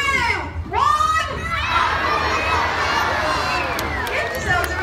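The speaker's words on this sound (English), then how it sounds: "as loud as you can, we're all going to shout abracadabra" A crowd of children at a sea lion show shouts a single word together on cue, a loud massed burst of young voices that stays up as excited cheering and chatter for several seconds.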